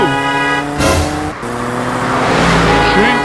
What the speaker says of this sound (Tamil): வண்டி ஓட்டுறானா ஏரோப்ளேன் ஓட்டுறானான்னு தெரியலையே இவ்வளோ ஸ்பீடாக போகிறான்